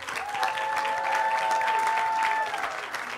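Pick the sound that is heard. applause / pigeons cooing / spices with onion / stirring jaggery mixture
applause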